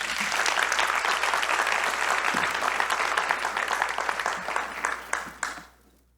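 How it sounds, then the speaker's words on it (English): Audience applause at a climate summit showcase, a full steady round of clapping from a sizable crowd that gradually thins into scattered claps and fades out. "give her a big round of applause"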